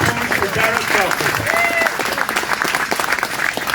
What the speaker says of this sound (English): A big round of applause for Gareth Crawford.